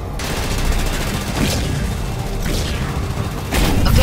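Ground troops firing guns in the game Halo Wars 2, a dense, loud battle din of overlapping shots and mechanical clatter, with heavier booming bursts standing out every second or so.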